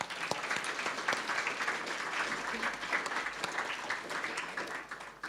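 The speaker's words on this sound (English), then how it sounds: "Please could we give them a round of applause." A crowd applauds steadily at a symposium in Perth, dense clapping at a moderate distance that carries on throughout and thins slightly at the end.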